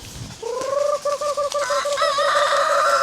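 Native hens with their chicks cluck loudly and close, a steady string of calls with a rising, crow-like cry layered over them, with no voices.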